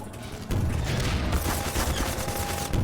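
Weapon fire rattles loud and continuous through a multiplayer video game on the d2_coast_02 map, a dense sustained barrage beginning after a brief lead-in and running to the end.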